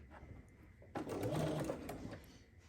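A home sewing machine stitching quilt block fabric runs steadily for nearly two seconds, a close, continuous whirring hum that starts abruptly and tapers off, alone without talk.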